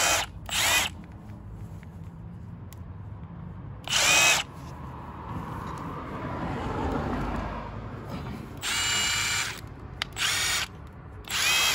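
A Milwaukee M12 Stubby impact wrench running on battery fires in several short, loud buzzing bursts of about half a second to a second each, with rough background noise between them.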